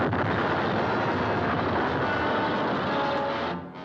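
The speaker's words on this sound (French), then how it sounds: "Une explosion." A sustained, rumbling explosion roars steadily for a few seconds, broad and heavy, then tails off at the end.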